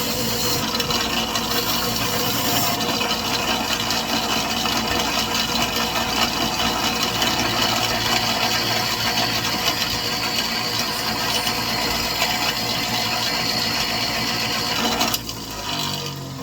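A bench grinder's wire wheel and pink aluminum oxide wheel honing a lathe turning tool, giving a loud, steady, dense grinding whir that runs unbroken before the motor cuts off near the end.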